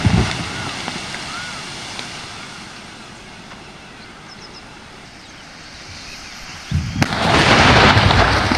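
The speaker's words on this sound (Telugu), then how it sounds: "నిర్మల్ జిల్లాలో చెక్ డ్యాం పేల్చివేత ఇది" Explosives blow up the Sakera check dam in Nirmal district. A sharp blast opens the clip, then comes a low rumbling lull before a second, heavier boom and a sustained roar of debris.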